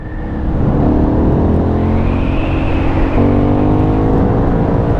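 An Aprilia Shiver 900 twin-cylinder motorcycle engine drones loudly and close while being ridden, its pitch rising steadily under acceleration with a continuous rumbling tone and wind noise.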